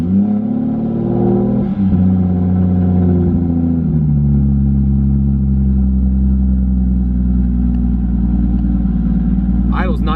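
A Toyota Supra engine idling right after its first start-up, a loud, steady close rumble with a slight dip early on and a brief higher rise near the end.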